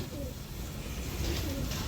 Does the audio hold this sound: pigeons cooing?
yes